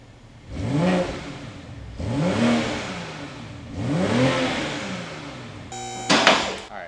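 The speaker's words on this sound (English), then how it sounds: "We're gonna get the stock startup and then a stock rev flip." A BMW M340i/M440i engine with stock exhaust revs three times in rising, swelling bursts over an idle, each rev falling back down, followed by a short mechanical whine.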